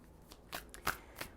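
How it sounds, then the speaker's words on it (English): Tarot cards are shuffled by hand in a few quick, crisp riffling bursts, close and fairly quiet, with no talking over them. "I'm going to shuffle these cards."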